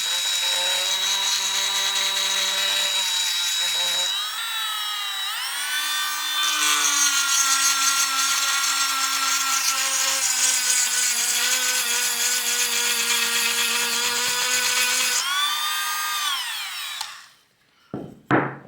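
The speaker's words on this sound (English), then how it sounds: "definitely it can grind the wood very well" A Parkside PMGS 12 D4 engraving and model-making rotary tool whines at high speed while grinding wood, its bright motor tone dipping and rising under load in long stretches before cutting off near the end.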